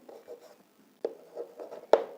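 Chalk or marker writing on a board during a chemistry lecture, a series of short scratchy strokes and taps in irregular bursts, close and fairly quiet, with no talking over them.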